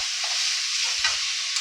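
Raw papaya and potato with chilli powder being stirred and sautéed in a pan, a steady bright sizzle with soft scraping stir strokes, close and alone.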